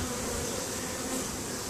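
Dense, continuous buzzing of a honey bee swarm, close and steady, with no voices.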